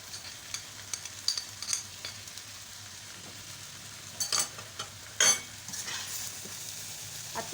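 Potatoes with salt, cloves, cumin, carom seeds, black pepper, nigella seeds and crushed chili are roasted in a pan over low heat, with a faint sizzle and intermittent spoon scrapes and stirring knocks.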